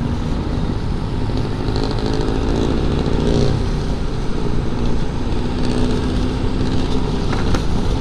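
Motorcycle ride on a trip from Manila Memorial to San Miguel: a steady, close engine drone with road and wind rush that holds unbroken for the whole stretch, with no voices.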